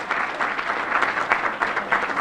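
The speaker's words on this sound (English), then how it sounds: "Now please, everyone, give our volunteers a round of applause." A crowd gives volunteers a round of applause at a county event, a close, full burst of many hands clapping steadily and evenly throughout, with no voices on top.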